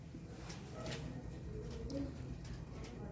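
Lal Cheena pigeons coo softly and faintly in a few low, murmuring calls over a steady background hum.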